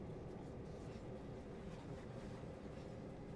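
A freight switcher train in Train Sim World 3 on the Oakville Subdivision rolls slowly, giving a low, steady rumble with faint mechanical rattling that stays quiet and even, with no voices.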